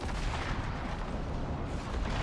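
A harsh, booming burst of storm thunder in the video game ARK, loud and close, rumbling continuously through the brief moment with no talking over it.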